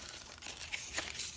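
Sheets of tracing paper being handled for a junk journal, with quick crinkles and short crisp rustles scattered across a brief moment, close and fairly quiet with no talk.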